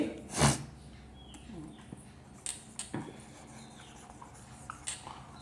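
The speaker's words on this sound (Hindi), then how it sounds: "तो यहां पर हम लोग लिखेंगे" Someone writes out a mathematical proof: faint, scattered scratching strokes in a quiet room, with one louder bump at the start.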